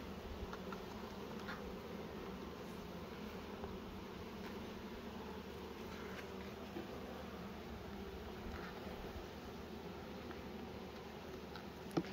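A steady, low insect drone of many bees humming together, continuous and even throughout, with faint scattered ticks above it.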